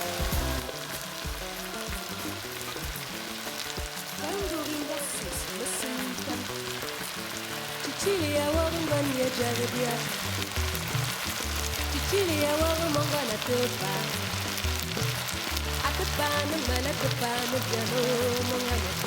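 Tomatoes, onions and spinach sauté in a pan with a steady, close sizzle and crackle, growing slightly louder partway through as frying continues without pause.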